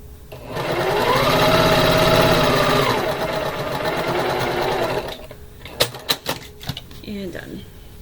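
A sewing machine runs a fast, steady, even stitch along a quilt block seam for several seconds, then stops, and a few handling clicks and knocks follow.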